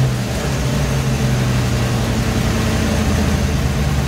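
An SN95 Ford Mustang engine runs at a steady, loud idle up close, a constant low rumble with no revving and no talking.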